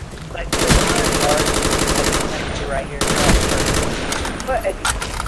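Sustained bursts of fully automatic rifle fire in a video game, loud and close, a long rapid volley with a brief break before the shooting resumes.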